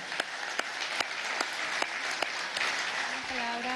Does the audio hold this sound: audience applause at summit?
yes